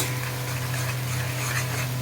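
Onion and tomato masala being stirred and scraped in a pan, a close, continuous frying rustle over a steady low hum, with no breaks in the sound.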